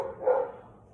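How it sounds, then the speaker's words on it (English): A single short dog bark, muffled and somewhat distant, rising briefly then fading into quiet. "Sorry, that's the dogs."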